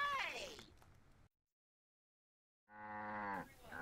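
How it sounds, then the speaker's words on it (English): A cartoonish cow moos from the video game Sam & Max, two drawn-out lowing calls, one falling and one steady, separated by a stretch of total silence and heard alone. "we had to have like a happy moo and an upset moo"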